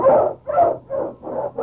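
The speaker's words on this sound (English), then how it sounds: "The Wonder Dog King, swiftest and strongest of Eskimo lead dogs" A husky Eskimo lead dog in an old radio drama gives a run of four or five loud, close barks in steady rhythm.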